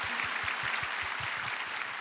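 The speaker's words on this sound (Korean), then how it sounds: "우리 박수 칠까요? 하나님께?" A church prayer meeting congregation claps together, giving a steady, fairly quiet wash of applause with a rhythmic pulse of beats beneath it and no talking.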